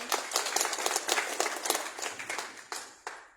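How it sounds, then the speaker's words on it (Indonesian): An audience applauds at an Indonesian press panel discussion, with steady, dense clapping that holds strong for a few seconds before thinning toward the end. "Tepuk tangan untuk Bapak Abul."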